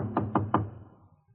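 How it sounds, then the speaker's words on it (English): Three heavy, evenly spaced knocks pound on a wooden door in a radio drama, close and loud, followed by a fading room tail. "In less than an hour, I was pounding on her door."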